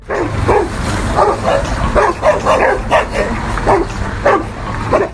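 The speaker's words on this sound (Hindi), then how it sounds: "इस क्लिप में ये कुत्ता भाई लोग जाली में से एक दूसरे पर भौंकने में लगे हैं" Several dogs bark and yip at each other through a mesh fence in rapid, overlapping bursts, loud and close.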